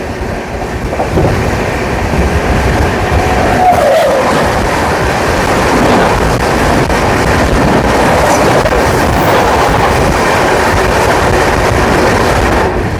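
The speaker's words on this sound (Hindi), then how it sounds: "हमारी क्रॉसिंग होने वाली है 12307 हावड़ा जयपुर एक्सप्रेस के साथ। ये आ गई हावड़ा जयपुर।" Howrah Jaipur Express (12307) rushes past at a railway crossing, a loud steady roar of wheels and carriages with rhythmic clatter running the whole time.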